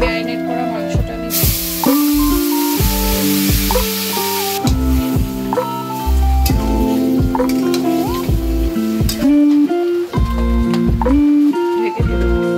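Marinated goat meat frying in a pan with whole cumin and whole garam masala, a loud steady sizzling hiss throughout, with clattering stirring and a voice talking over it.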